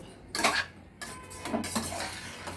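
Rice for tomato rice being stirred and sautéed in a pan: a few close scrapes and clinks of a spoon against the metal, each separated by short pauses.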